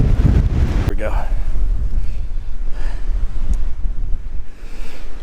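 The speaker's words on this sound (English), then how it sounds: "Hopefully you can hear that wind howling out there." Strong wind buffets the microphone on a lakeside bank in winter, a deep rumbling roar that rises and falls steadily throughout, loud and close, with occasional voices.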